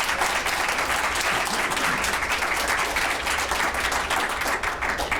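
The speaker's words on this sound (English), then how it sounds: "we can clap. We can clap." Steady, dense applause fills a room as an audience claps for a community service award recipient at an AARP Andrus Award ceremony, continuous and fairly loud throughout without pauses.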